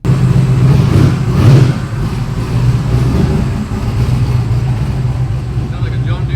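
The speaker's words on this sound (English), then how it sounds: "Sounds like a John Deere tractor, huh?" A car engine idles and revs up close with a deep, chugging, tractor-like drone, a louder surge early on before it settles to a steady rumble, while people talk over it.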